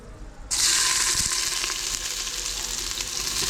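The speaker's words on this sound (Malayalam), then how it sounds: "എണ്ണ ചൂടായി കഴിഞ്ഞാൽ നമുക്ക് അരിഞ്ഞു വെച്ചിട്ടുള്ള സവാള ചേർത്ത് കൊടുക്കാം" Loud, steady sizzling bursts in at once as chopped onions hit hot oil, then a constant crackling fry continues close by with no voices.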